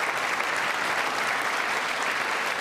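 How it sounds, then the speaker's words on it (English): Sustained applause from a large audience at the State of the Union address, a dense, even wash of many hands clapping, somewhat distant and continuous with no talking. "Let's see if the Democrats clap for this one."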